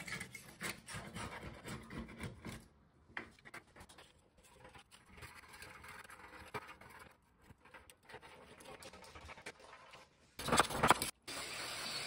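Old bathtub finish being scraped and feathered back with hand tools, a steady rasping scrape that comes and goes in uneven strokes, ending in a short louder burst of harsher scraping.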